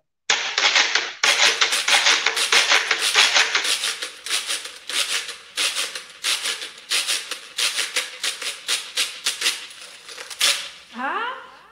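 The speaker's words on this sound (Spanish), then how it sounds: "Se llama el guachate." A homemade guachate percussion instrument, built from reused materials, played in a quick, steady run of sharp dry clacks that stay loud and close, with no voices over them.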